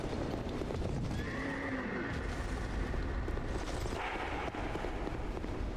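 A horse whinnies with a rising, wavering call over a dense, busy soundscape in the video game Dark Souls 2, with hooves clopping steadily in the background.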